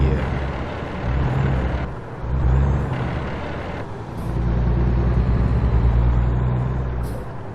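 A heavy truck engine in American Truck Simulator drones loud and close, its revs dropping and rising again between gear changes, with a short air hiss near the end.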